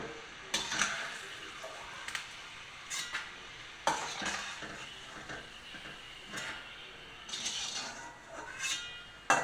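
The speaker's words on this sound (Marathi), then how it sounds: "आणि आता शेंगदाणे आपण तळायला ठेवलेले आहे" Peanuts fry in oil for sabudana chivda, making a soft sizzle broken by several sharp clinks and scrapes of a utensil against the pan, fairly quiet and with no talking.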